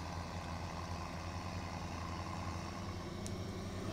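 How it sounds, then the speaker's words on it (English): Steady, moderate engine drone from a tractor pulling a trailer downhill in Farming Simulator 17, continuous and even throughout with a faint high tone near the end, no voices. "You can hear the engine whine."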